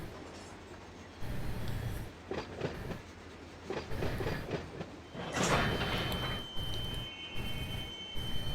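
A train rolling past on the rails in a rail yard during humping, heard as a rumbling, uneven run of wheel clatter and clanks in bursts that grow louder toward the middle, with no one speaking.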